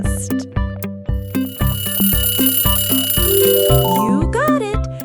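The BMW logo jingle: a sleek run of evenly spaced synth plucks and bell-like notes that gives way to sustained tones and a rising, swooping flourish at the end, loud and with no one talking.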